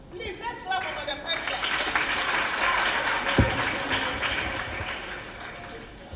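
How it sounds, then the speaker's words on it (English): Conference audience applause at an annual adolescents' gathering rises into a steady, dense patter of many hands, fairly loud and sustained for several seconds, with voices talking underneath. "Please, let's clap for"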